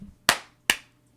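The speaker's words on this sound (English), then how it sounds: "If you're excited and you know it, clap your hands." Two sharp hand claps, close and crisp, spaced under half a second apart, each fading quickly into near silence.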